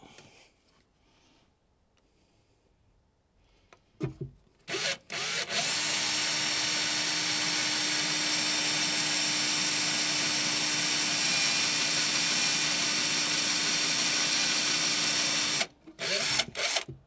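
A power drill bores into a van floor, starting with a few short bursts, then running in one long, steady whine for about ten seconds before stopping, close and alone.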